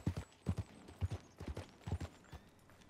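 Horse hooves clip-clop in Red Dead Redemption 2, a steady run of close, dull hoof beats in pairs that thins out toward the end. There is no talk over them.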